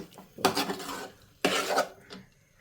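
Tomato rice is stirred in a pot with two separate, close scraping strokes of a utensil against the metal, each a short grating rush with a pause between.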